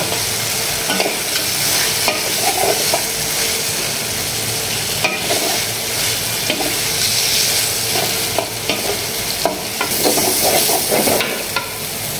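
Shrimp fry loudly in a hot pan, a constant close sizzle broken by repeated scraping and stirring clatters of a utensil against the pan, with no voices.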